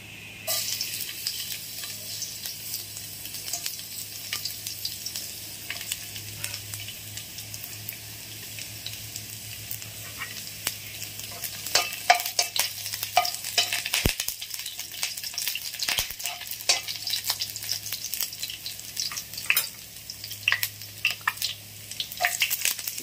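Chopped garlic sizzles in hot oil in a pan, a steady bright crackle that grows busier midway, with scraping stirs and small utensil clicks against the pan and one sharp knock; no speech.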